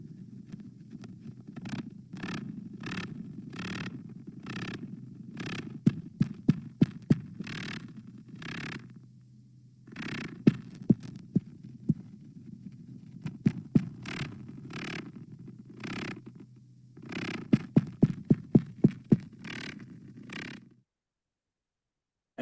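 A male spider's courtship vibrations in paper, picked up by a laser Doppler vibrometer, come through as rhythmic bursts of buzzing pulses and sharp clicks over a steady low hum, pausing briefly in the middle.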